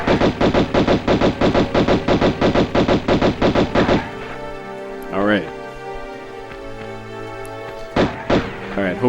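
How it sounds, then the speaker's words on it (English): Rapid automatic gunfire in the video game Tomb Raider, a loud burst of about a dozen evenly spaced shots that stops abruptly, followed by quieter game sounds and a couple of later thuds, with talking over it. "Somebody's shooting me."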